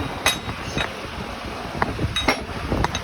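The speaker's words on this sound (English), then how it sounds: "I cut some thicker plates for that. Let me put it on here." Thick steel plates cut for a smoker build are handled and set in place, giving a few sharp metallic clinks and knocks at irregular intervals over a steady background hiss, close by and with no talking.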